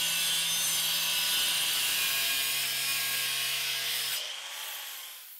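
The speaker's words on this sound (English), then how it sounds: "I'll cut out the lower blade." Metal blade for benchtop metal-cutting shears being cut out, a continuous harsh abrasive cutting whine held steady for about four seconds before abruptly stopping and trailing off, loud and close with no speech.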